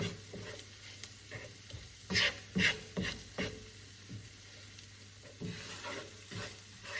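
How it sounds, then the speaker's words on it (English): Onions frying in a pan give a soft, continuous sizzle, broken by scraping stirs and occasional louder clatters of the utensil against the pan. "I'm going to continue to let my onions cook for about another 3 minutes"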